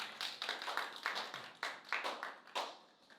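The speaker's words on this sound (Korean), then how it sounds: "우리 주님께 영광의 박수 올려드리도록" A small church congregation claps during a Sunday worship service, a sparse, uneven round of distinct hand claps in a rough rhythm, fairly quiet and fading toward the end.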